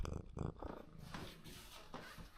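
Two house cats purr close by in a quiet indoor room, a soft continuous rumble with a few louder bursts near the start.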